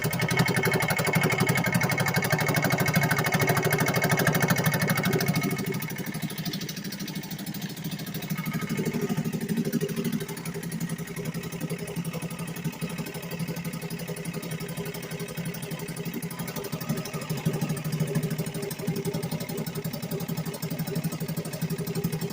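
A vintage 1963 Sea King 3hp single-cylinder outboard motor runs continuously at a steady, loud drone with a rattling undertone, easing slightly in pitch after a few seconds, no voices.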